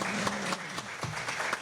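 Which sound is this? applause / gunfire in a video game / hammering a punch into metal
applause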